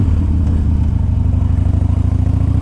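A 2001 Harley-Davidson Dyna Wide Glide V-twin idles close and loud, its deep lumpy rumble pulsing in an even beat throughout, with no talk.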